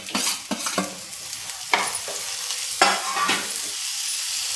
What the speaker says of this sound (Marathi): आता हे बाजूला काढून ठेवलेलं आपण मेथी घालून घेऊ